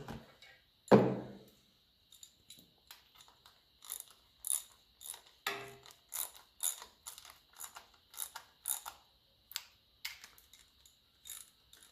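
Ratcheting clicks from a wrench snugging bolts on a 1954 Ferguson TE20 diesel tractor, coming in short close bursts of rapid ticks with brief pauses between strokes and no talk.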